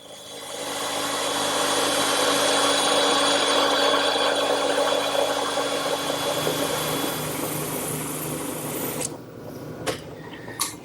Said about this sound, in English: that's another job for the bandsaw